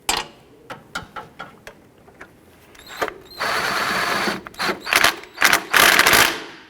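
Bolt being snugged down on a 2009-2015 Honda Pilot passenger-side engine mount: a string of sharp close ratchet clicks, then longer bursts of a buzzing power tool, loud and alone.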